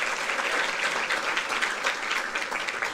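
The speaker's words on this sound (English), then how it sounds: "I wish to request that we give our 12th language interpreter a round of applause" Applause from an audience at an International Mother Language Day celebration, a dense, steady clapping crowd sustained evenly for the whole span.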